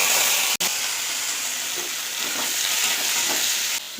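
Chopped papaya and potato fry in hot oil in a kadai, giving a loud, steady hiss close by with faint stirring scrapes. The sizzle drops out for a split second near the start, then runs on evenly until it ends abruptly.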